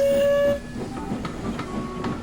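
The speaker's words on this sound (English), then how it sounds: "they heard a familiar whistle in the distance" A steam engine whistle sounds in the distance as the locomotive Sir Handel arrives, a steady tonal blast for about half a second, then rhythmic train clatter continues underneath.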